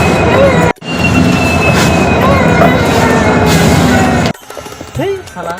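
A train rumbles past loudly and steadily for about four seconds with a brief gap, then cuts off abruptly, leaving quieter background sounds.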